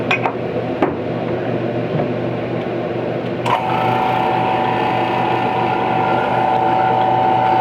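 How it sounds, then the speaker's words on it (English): A vacuum chamber degasses hot liquid swimbait plastic at about 340 to 350 degrees. A few clanks and clicks lead into a steady mechanical hum with a thin whine, running close and continuous. "I'm going to go ahead and vacuum chamber it."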